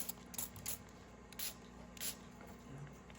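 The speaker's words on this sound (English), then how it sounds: "you're gonna take your little spray bottle" A small spray bottle spritzes water onto a watercolour painting of water lilies, several short hissing bursts spaced irregularly, faint and close, with soft handling clicks between them.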